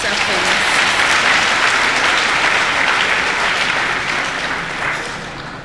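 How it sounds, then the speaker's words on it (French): Applause for a finance minister at a university event in Parakou, a dense, sustained crowd clapping heard from within the hall, loud and steady before easing off slightly at the end. "je vous demande d'applaudir le ministre des Finances pour sa présence"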